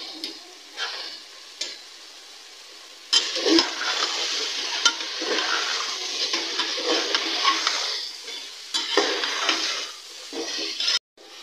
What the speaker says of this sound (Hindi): और ये थोड़े से आलू हैं, इसके साथ इनका जायका और अच्छा हो जाएगा कीमे का। और इसको भी अच्छी तरह भून लेते हैं।